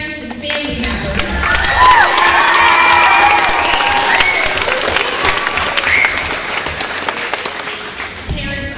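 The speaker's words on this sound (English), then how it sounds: "Can we give a round of applause to your parents and family members?" Audience at a school band spring concert breaking into loud, sustained applause with some cheering and crowd noise, swelling early and holding for several seconds before tapering.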